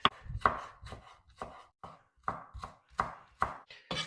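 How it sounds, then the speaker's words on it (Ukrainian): A knife finely chops an unpeeled tomato on a board for guacamole: around ten crisp, close cutting strokes in an uneven rhythm, with no speech. "Його не треба чистити. Треба тільки дрібненько нарізати."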